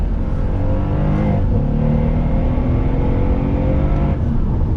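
A 2019 Mercedes-Benz AMG SL63 Roadster under throttle on twisty roads, its engine giving a loud, steady droning roar from close by, the pitch shifting slightly as it pulls through bends.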